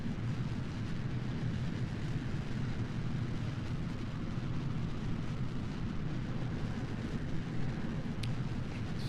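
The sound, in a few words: Ryan Delta model rocket launching at full throttle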